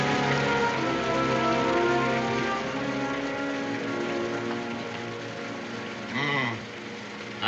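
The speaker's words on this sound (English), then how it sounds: "I would have preferred that it hadn't rained tonight." Rain falling at night in a frontier settlement, a steady broadband patter and hiss running throughout, fairly loud at first and easing slightly later, alone without talk.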